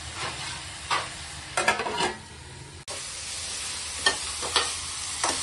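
Capsicum palya fries in a pan with a steady close sizzle and hiss, broken by several spatula scrapes and stirs, with no talking.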